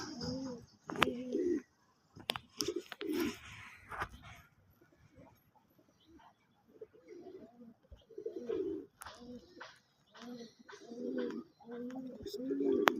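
Soft, low coos of a Giribaz pigeon repeat in short bursts with pauses between them, close by, with occasional faint clicks.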